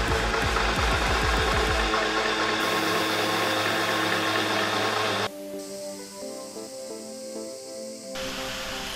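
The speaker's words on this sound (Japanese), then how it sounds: "オイルを抜くドレーンボルトの穴を開けておきたいと思います。" A loud mechanical whir with rapid rattling grinds for several seconds while drilling an oil drain bolt hole in a Honda Super Cub part, then cuts to a quieter, steadier machine hum with tonal whine.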